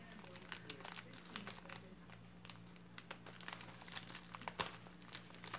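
Plastic shipping packaging crinkles and crunches as scissors work under its corner, a close, quiet run of irregular rustles and small snaps with a faint low hum behind.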